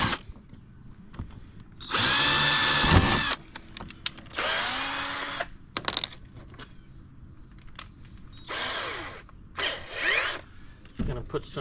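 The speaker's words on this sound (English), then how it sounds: "drill the mounting holes for this" A power drill whirs in several short bursts, one longer run then quicker spurts with pauses, close by, drilling mounting holes in a kayak hull for a fish finder, with faint voices between.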